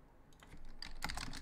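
Keys clack on a computer keyboard as a file name is entered, a short burst of quick close taps growing denser toward the end over a quiet room.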